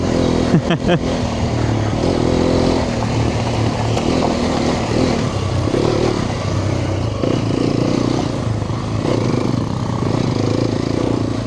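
A Hero Xpulse 210 motorcycle engine runs steadily while being ridden, around 2,000–3,000 RPM, with a continuous low drone, wind rush and some clatter throughout.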